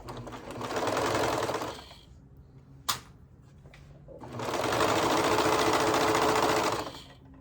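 A serger sewing machine with its knife engaged stitches a skirt seam in two loud, steady whirring bursts, separated by a quiet pause with a single sharp click.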